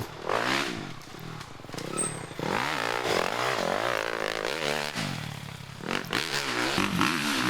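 An enduro dirt bike ridden hard at a national enduro race in Westpoint, Tennessee: a close, loud engine revving up and down in quick surges under heavy throttle, with no talking.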